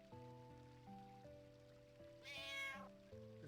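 A cat meows once in Final Fantasy IX, a short rising-falling cry over steady, looping game music and a light rain-like backdrop, all faint overall.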